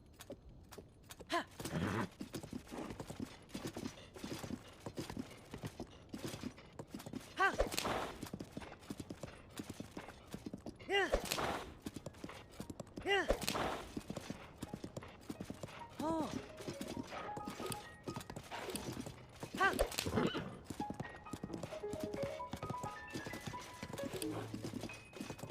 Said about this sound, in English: why does my horse keep getting stuck?